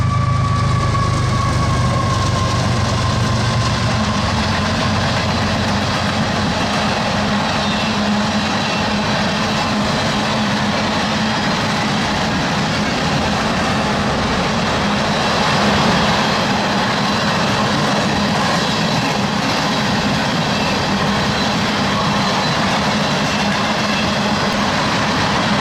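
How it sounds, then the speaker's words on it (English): An empty Kinder Morgan ethanol freight train rolls past near Lochloosa, Florida, a loud sustained rumble of rail cars with steady wheel clatter and low engine drone throughout. "Kinder Morgan's empty ethanol train, K476, was headed back north to Rose Lake,"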